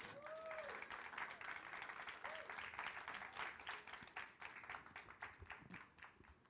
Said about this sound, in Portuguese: Eu quero chamar aqui com uma calorosa salva de palmas, Pastor Fábio e Pastora Cris.